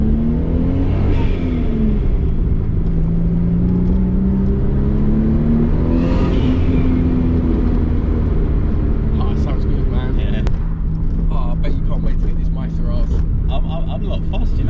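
A Nissan R32 Skyline with a 2.0-litre engine tuned to 420 bhp revs hard and pulls away, rising and falling through gears and growing louder, with people talking over it.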